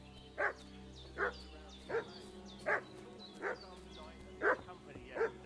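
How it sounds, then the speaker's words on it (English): A dog barks repeatedly in the video game Kingdom Come: Deliverance II, with evenly spaced single barks at a moderate distance over a steady low ambient hum. "What's that dog making such a fuss about?"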